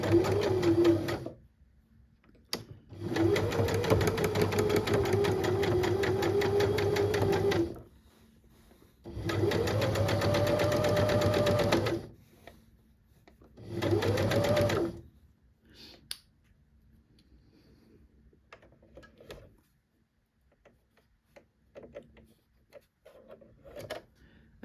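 A sewing machine runs a wide zigzag stitch, set around width 4 or 5, over a waistband seam in four bursts of rapid mechanical whirring separated by pauses, followed by faint clicks and handling noises.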